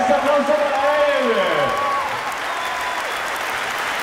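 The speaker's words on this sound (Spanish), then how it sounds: "¡Ese aplauso para él!" A crowd at a basketball game applauds loudly during a break, with a voice calling out over the clapping early on. The applause then settles into a steady, slightly softer patter.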